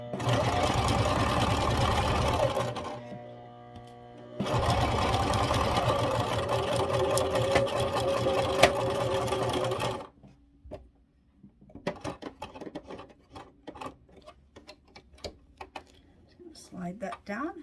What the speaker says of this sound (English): I'm just going to start pinning the start sewing the second one.